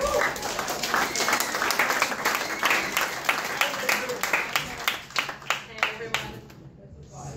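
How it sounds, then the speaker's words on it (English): An audience at a campaign event breaks into a warm round of applause, dense clapping that holds strong and then thins to scattered individual claps as it fades out. "warm round of applause for Rachel Bishop."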